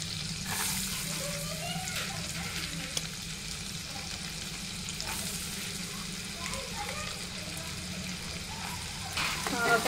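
Chopped onion sizzles in hot butter in a pan for pav bhaji, a soft continuous crackle and hiss with occasional stirring scrapes; a voice talks intermittently over the cooking.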